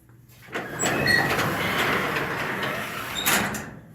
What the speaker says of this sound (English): If I open the door, maybe we can see it a little bit better.